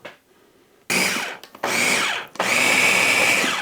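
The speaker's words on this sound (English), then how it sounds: "So a little bit of a smaller blender, same rules apply." A small kitchen blender mixing ingredients for steak tacos, whirring loudly in three close bursts separated by short pauses, the motor spinning up hard each time, with no talking.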